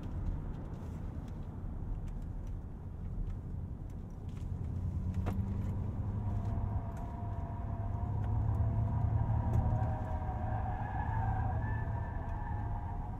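A 2022 Ford F-150 Lightning electric pickup is driven hard through bends, giving steady road and tire roar with a rising whine, moderately loud and continuous, with no talk.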